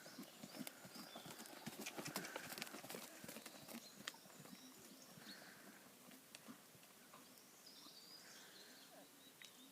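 Horse hooves canter on a circle during a riding lesson, a faint rhythmic run of soft thuds heard from a distance with occasional birdsong in the background.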